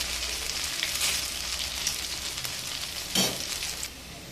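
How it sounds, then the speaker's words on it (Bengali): Banana flower and rajma fritters frying in hot oil, giving a steady, close sizzle with crackling bursts and one brief louder flare near the end, with no talking. "মোচার বড়াটা কিন্তু বেশ ভালো করে ভাজা হয়ে গিয়েছে।"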